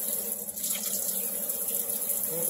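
Kitchen tap water running steadily into a sink while rinsing turkey giblets, a close, continuous splashing flow heard alone.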